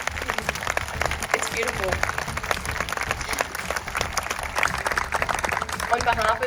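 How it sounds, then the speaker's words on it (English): A crowd at the WugulOra Morning Ceremony for Australia Day claps and applauds steadily while voices talk and call out over the noise. "Give her that big clap."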